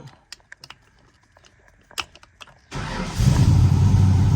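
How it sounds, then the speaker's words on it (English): A 1956 Ford F100 pickup engine cranks and catches at once, settling into a loud, steady idle after a few light clicks and taps. "if I go ahead and start up the truck"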